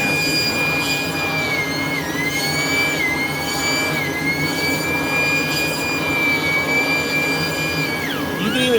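A vacuum cleaner's brush roll agitates against hair jammed around it, giving a steady, loud, high whine with a constant motor drone that wavers slightly in pitch and dips near the end. No one speaks.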